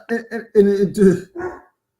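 Dogs bark in the background of a sports preview talk: five short, sharp barks in quick succession, fairly close and loud, with no talking during them.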